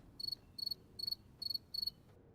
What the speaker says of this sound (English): There's the cricket chirp for good old days.